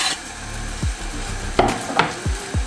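Garlic and lemon zest dropped into white wine simmering in a pan: a low, steady bubbling with a few sharp taps and scrapes of a utensil against the pan, close and clear, without talk.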